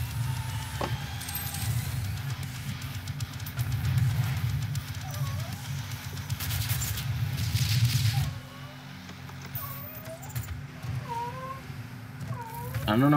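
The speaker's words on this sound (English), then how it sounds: "That's my cat." A pet cat meows several times indoors, short rising cries spaced a second or so apart, faint beneath the rumbling music and effects of a DOOM game.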